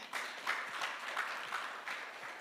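Light, distant-sounding applause from a forum audience in Jeju on support for elderly people with disabilities, a thin patter of hands that rises and falls gently throughout.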